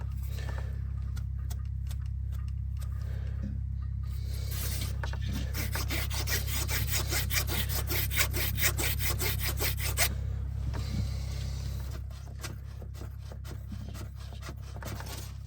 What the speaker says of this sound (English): I just got to ream it out and clean it out.